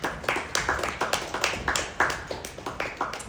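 A standup comedy audience in St. Petersburg gives scattered, uneven clapping. The claps are sharp, close and fairly quick, with only a few people joining in over a few seconds.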